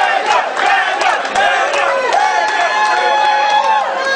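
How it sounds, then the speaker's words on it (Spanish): Wedding guests in California cheer and shout loudly together, a dense crowd of whooping voices with sharp bursts of clapping running right through, close and energetic. "Fuerte el aplauso que se escuche."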